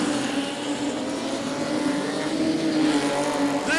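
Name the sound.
speedway modified production race cars racing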